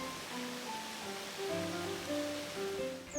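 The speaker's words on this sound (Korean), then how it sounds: "시원하게 떨어지는 물줄기 좀 더 감상해 보실까요?" Byeongpung Waterfall on Gangcheonsan mountain sends a steady, full rush of falling water, a continuous broadband roar heard under soft melodic background music.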